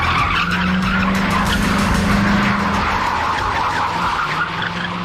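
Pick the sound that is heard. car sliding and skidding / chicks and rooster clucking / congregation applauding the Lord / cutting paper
car sliding and skidding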